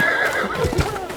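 A horse gives a short, sharp whinny with a few hoof clops in a dramatized audiobook fight scene, close and brief amid other effects.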